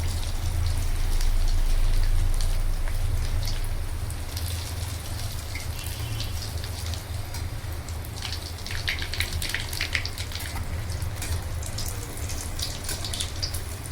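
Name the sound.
egg kebab frying in oil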